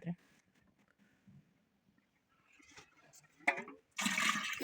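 Water gushes loudly into an autoclave over canning jars of stewed meat. It comes as a sudden burst at the end, after quiet moments and someone talking.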